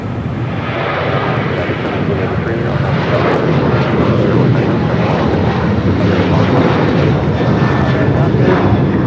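An American Airlines Boeing Dreamliner at LAX gives a loud, steady roar of jet engine noise that holds evenly throughout, close by and unbroken, with a faint high whine riding on top.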